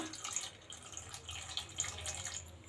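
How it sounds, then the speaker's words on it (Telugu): About half a glass of water is poured over jaggery in a pan to make syrup for a sweet. The trickling splash is soft and faint, and no one speaks. "ఇందులో కొంచెం వాటర్ వేసుకుందాం. చూడండి, ఒక 1/2 గ్లాస్ వేస్తున్నాను వాటరు."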